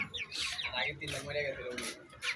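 A young rooster and hen cluck and chirp nearby, with high, sharp calls repeating over a soft background of murmuring voices.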